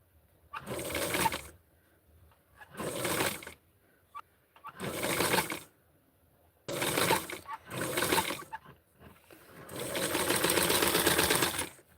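A sewing machine stitches a Barbie doll dress in short repeated bursts of whirring, close and clear, with quiet gaps and a longer run at the end.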